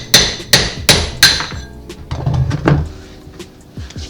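Four sharp metallic hammer blows on a chisel against a rivet, evenly spaced and close, followed by duller knocks and shuffling.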